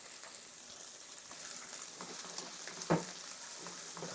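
Pancetta and garlic fry in a pan, giving a soft continuous sizzle with faint crackles and one brief knock of a utensil near the end, heard close and fairly quiet.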